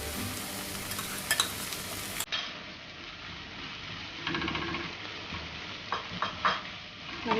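Crushed ginger, garlic and green chili are stirred into sizzling chicken biryani masala in a pan, with continuous frying hiss and intermittent scraping of a spoon against the pot, close and moderately quiet.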